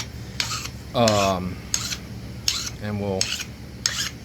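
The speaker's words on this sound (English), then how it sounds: "Sharpen my pressure flaker up, or my indirect stick up real quick" Rasping strokes of a flintknapping pressure flaker being sharpened, several short scraping bursts in an uneven rhythm, close and moderately loud, with brief bits of a voice between them.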